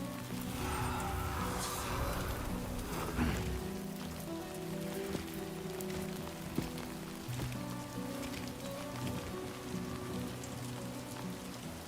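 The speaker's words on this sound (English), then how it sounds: "It's raining, it's pouring." Steady video game rain patters on surfaces, a continuous wash of drops under low rumbling background tones that runs the whole time.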